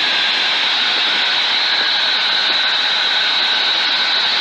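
A microlight flexwing aircraft's engine drones steadily in flight at around 84 knots. The roar is loud, constant and close, with no pauses and nothing else audible over it.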